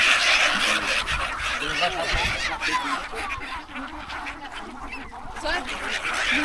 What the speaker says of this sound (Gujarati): જુઓ પાછળની સાઈડ ઘણા બધા પક્ષીઓને તમને બતક ને એવું જોવા મળી જશે